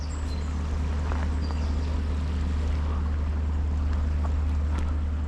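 Quiet outdoor ambience of a canal and river at Hebden Bridge, gently moving water with a low steady rumble and light wind, faint scattered splashes, no voices.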